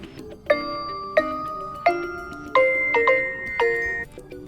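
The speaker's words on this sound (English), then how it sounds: "select new alarm sound from the list of the system sounds" An alarm tone from a OnePlus Nord CE 3 Lite phone plays on its own, a series of bright, chiming melodic notes struck about every half second or so, each ringing briefly before the next, loud and clear.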